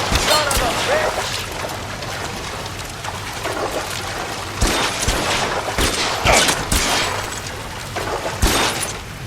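Gunfire in the video game L.A. Noire: several sharp, loud shots burst at irregular intervals over a noisy, splashing background, with voices heard in between.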